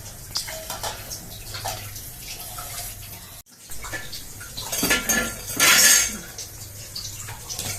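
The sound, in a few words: lid being placed on a cooking pot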